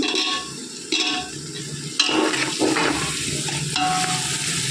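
Tomatoes for a chicken pulao fry in a pan, a close sizzling hiss broken by several sharp stirring and scraping bursts and clatters, no voices.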